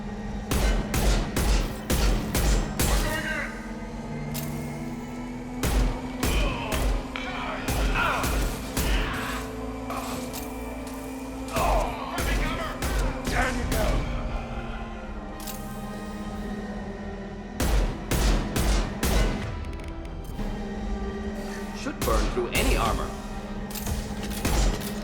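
Rockets exploding in the video game Mass Effect 2, a run of loud, close bursts and booms in clusters, with a steady synthetic hum beneath and other game sounds between the blasts.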